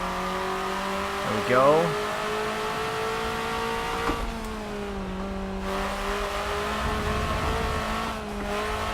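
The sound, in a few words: car engine revving in a racing video game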